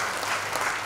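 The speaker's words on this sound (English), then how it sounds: "everybody that has made this possible deserves a huge round of applause" Brief, steady wash of audience applause at a parents-in-waiting conference, many hands clapping together at moderate loudness for about a second.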